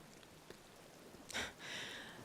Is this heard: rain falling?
yes